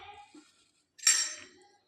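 A metal spoon stirring boiling milk in a pot for kheer gives one short, bright clink and scrape after a few faint soft sounds, then fades to quiet.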